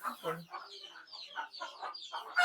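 Native chickens in a poultry cage on a small farm: a rapid run of close, short clucks and chirping calls, some from chicks, overlapping in an irregular burst.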